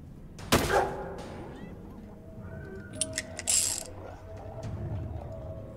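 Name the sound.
gunshots from the video game Stygian: Reign of the Old Ones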